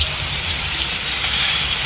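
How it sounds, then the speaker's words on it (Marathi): Rain pours outdoors where children are getting soaked, producing a dense, even hiss of drops hitting surfaces, loud and unbroken across the short stretch with no voices standing out. "आरव पावसात मध्ये भिजतात बघा. परी सुद्धा पावसात भिजते."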